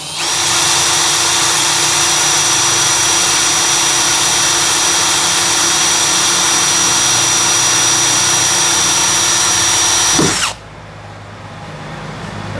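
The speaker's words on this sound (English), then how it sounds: "I'm going to start slow just to let that drill bit start to cut." A power drill bores a pilot hole through the metal rear door of a VS30 Sprinter van, a loud, steady high whine running continuously for about ten seconds before abruptly cutting off, leaving quieter background.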